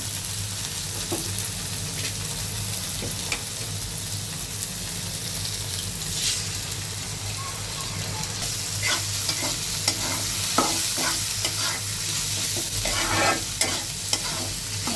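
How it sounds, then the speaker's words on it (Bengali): Egg and onion stalks fry in a pan for a Bengali home cooking dish, giving a steady close sizzle with scattered crackles and stirring scrapes throughout, no voices. "পেঁয়াজের কলিও ভাজা হবে, ডিমটাও সুন্দরভাবে ভাজা হয়ে যাবে।"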